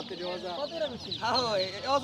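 Ducklings peep and chirp in quick high bursts close by, mixed with people talking at a busy livestock market in Nawabpur.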